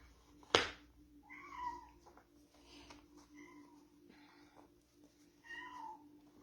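Three clear cat meows sound indoors after a sharp knock, spaced a couple of seconds apart over a steady low hum, moderately close and with no talking.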